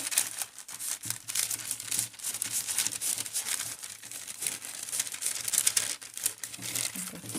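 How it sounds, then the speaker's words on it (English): Parchment paper crinkles and rustles steadily for several seconds at a watercolor tile workspace, close and crisp with uneven bursts of crackling and no voices. "This is parchment paper."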